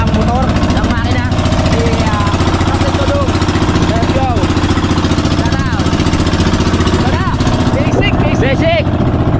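Boat motor engine running on a trip near Burias, a loud, continuous droning rumble with steady pulsing throughout, while people talk and exclaim over it.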